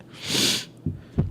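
One close, breathy sneeze from a person, followed by two low snorting sniffs.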